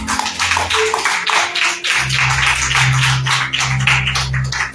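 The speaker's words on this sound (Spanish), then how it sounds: "Denle un aplauso al Señor," A church congregation claps loudly and continuously, a dense wash of many hands close by, with a low hum running under it.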